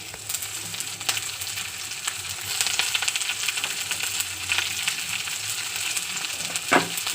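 Chopped green chilli and onion sizzle steadily in hot oil in a wok, a continuous crackling fry with a few sharp clicks from stirring, and no talk.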